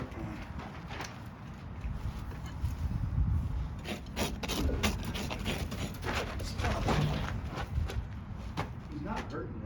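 A farrier rasps a horse's soft hooves on a summer day in Arizona, giving repeated scraping strokes at close range, with people talking over the work.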